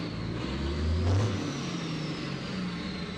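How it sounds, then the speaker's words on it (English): A racing truck engine at Brands Hatch runs steadily in the background, a mid-pitched whirring drone that briefly swells as it revs, then settles back to a constant hum. "The engine certainly seems to still be working, as you can probably hear in the background."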